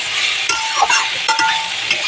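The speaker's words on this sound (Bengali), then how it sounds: "শিমগুলোর মধ্যে আর একটু ভেজে নেব," Soybean chunks and flat beans fry in a pan with a steady, hissing sizzle, broken by a few soft stirring scrapes and clicks close by.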